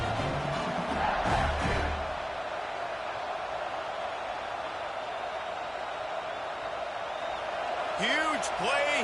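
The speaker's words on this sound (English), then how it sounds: "this crowd is coming to help the defense" Stadium crowd roaring in a college football video game with Ole Miss, a dense sustained wash of cheering that stays loud throughout, with a commentator's voice over it at the start and end.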